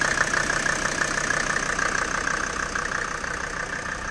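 A Mercedes G-Class 250GD turbo diesel with a mechanical injection pump idles in a steady, even rumble with a slight knocking texture, close and continuous, with no voices.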